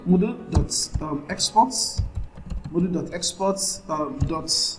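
Typing on a computer keyboard while coding a Node.js and Express project, with soft clicks and taps that are faint and mostly buried under steady nearby talk.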